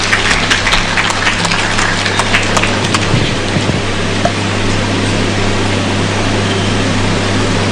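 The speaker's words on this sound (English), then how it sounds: "Let's give Noela a clap," An audience at a memorial gathering in Kenya claps for an honoured guest, a dense, loud burst of many hands with sharp individual claps early on, settling into a steady rain-like patter over a low hum.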